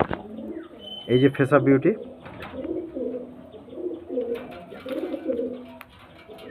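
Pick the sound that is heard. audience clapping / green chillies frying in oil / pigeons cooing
pigeons cooing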